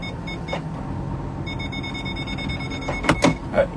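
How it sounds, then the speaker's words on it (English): Short electronic beeps from the parking sensor of a Pagani Huayra sound faintly over the low hum of the car's cabin, then a few louder clicks and chirps come near the end. "if we can get rid of that beeping noise, those things drive me crazy, man. I don't need beeps to park."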